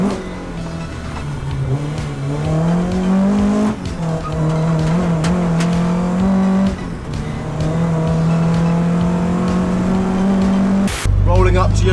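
A rallycross Peugeot 205 GTI drives along a public street, its engine loud and close, climbing in pitch through long pulls with brief drops at gear changes, and a sharp burst near the end.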